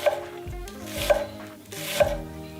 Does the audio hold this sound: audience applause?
no